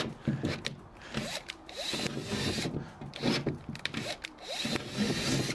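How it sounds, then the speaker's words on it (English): Cordless drill with a weakening, nearly dead battery driving screws while Sortimo SR5 van racking is fitted in a Ford Transit Custom, short uneven whirring bursts with pauses between them, faint and close by. "I think the battery's dying on this drill."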